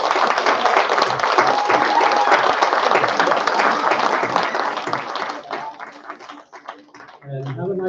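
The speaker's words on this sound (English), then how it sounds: "Let's give one last round of applause to all the artists." A final round of audience applause for the artists at a memorial ceremony, loud, dense clapping that fades after about five seconds into scattered claps before a voice speaks over the room.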